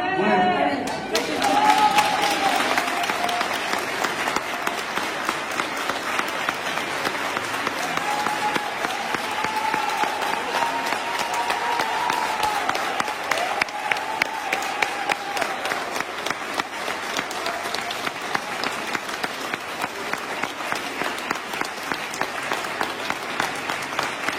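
Hospital staff applaud in a long, sustained round of many overlapping claps, moderately distant, continuing evenly with voices and crowd noise beneath.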